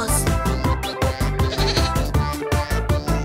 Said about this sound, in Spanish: ¡Esta es una cabra, chicos!